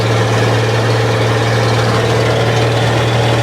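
Loud, steady low drone of a dump truck engine and exhaust heard from the cab while driving at speed, with constant rumble and wind noise and no pauses.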